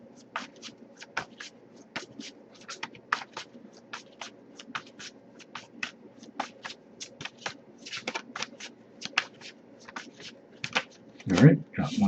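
Tarot card deck being shuffled by hand, a long run of quick crisp riffling snaps in an uneven rhythm, close and steady, with a voice briefly heard near the end.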